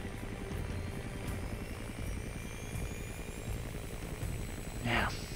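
Large helicopter in the video game Front Mission 4, a steady droning rotor and engine roar that holds at an even level throughout, with a brief louder swell near the end.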